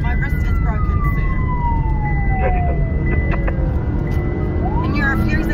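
A police car siren wails in a slow falling glide, then rises again, heard behind road noise and a talking voice.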